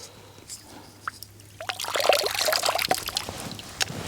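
Clean water pushed from a syringe flushes a water filter's pre-filter, producing a close, steady trickling and dribbling stream that starts after a quiet lead-in, with scattered drips and small clicks.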